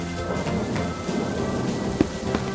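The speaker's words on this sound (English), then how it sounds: "It's raining" Cartoon rain: steady rain falls throughout, with a few soft rumbles of thunder and a sharper crack near the end.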